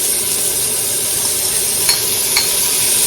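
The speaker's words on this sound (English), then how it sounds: "I'm going to drop in my onions and my celery." Onions and celery hissing and sizzling loudly in a hot pan with lamb for a lamb stew, a steady close frying roar with a couple of faint utensil taps, no voices.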